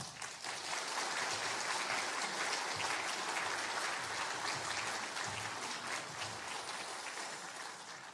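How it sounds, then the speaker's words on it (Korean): A church congregation applauds warmly at a Sunday worship service as a pastor comes forward, sustained dense clapping at an even level throughout. "우리 요원 목사님 나오실 때 뜨거운 박수로 우리 축복해 주시기 바랍니다."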